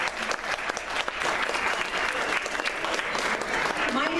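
An audience at the Frozen Apple Festival in Apple Valley claps in a dense, sustained round of applause, loud and even, with a crowd murmuring faintly beneath it.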